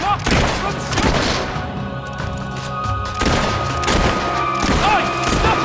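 Gunfire in the video game Fable 3 during a battle, repeated loud volleys and booms in rapid bursts mixed with shouting voices and battle noise.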